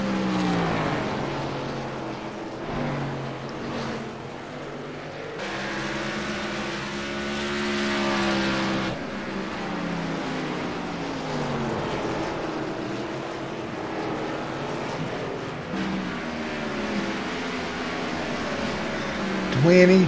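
Race cars circling Stafford Speedway in a Roaring Thunder National Series event, engines droning and sweeping past at middle distance in shifting waves, with a commentator talking over the noise throughout.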